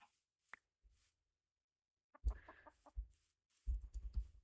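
Blocky chickens in Minecraft give short clucks in a few brief bursts, fairly quiet, with near-silent gaps between them and no talking.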